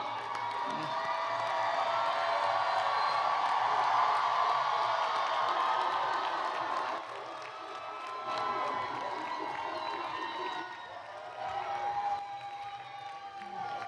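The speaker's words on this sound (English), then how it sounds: "I invite the audience to give the graduating class a round of applause they so deserve" Graduation ceremony crowd cheers and applauds the graduating class, a loud sustained roar of voices, whoops and shouting with clapping mixed in, easing slightly partway through before swelling again.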